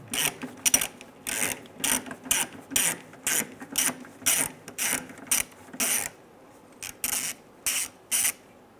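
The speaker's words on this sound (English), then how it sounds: "So we'll go ahead and back out that bolt." A hand ratchet backing out a 10 mm bolt on a 2003-2011 Honda Element during rear strut work, close rapid clicking strokes in repeated bursts with short pauses between.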